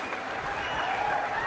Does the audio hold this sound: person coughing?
no